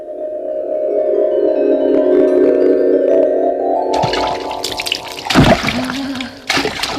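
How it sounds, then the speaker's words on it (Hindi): Water pouring and splashing during a quick bath in a children's story, a loud steady stream shifting into sloshing and splattering, then a short rush near the end. "झटपट नहाने के बाद"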